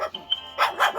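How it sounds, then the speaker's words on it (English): A pet dog barks in the background indoors, giving a couple of short, sharp barks with a brief yip, moderately loud and close within about a second. "Sorry for the background, that's my dog."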